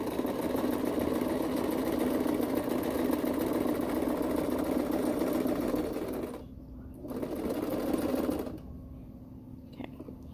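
A sewing machine stitches fabric for a face mask, its motor whirring steadily and close up for about six seconds, then pausing, running again briefly and stopping, with quiet room noise in the gaps.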